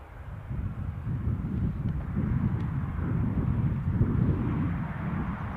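Steady broad low rumble of an aircraft engine at Newcastle airport, droning continuously and fairly loud throughout with wind buffeting mixed in, no voices.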